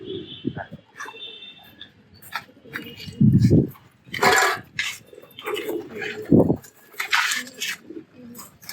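Giribaz pigeons on a rooftop give low, repeated coos in short bursts, close by, with bird calls and brief rustling mixed in while someone talks throughout.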